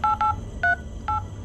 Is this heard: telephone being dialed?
yes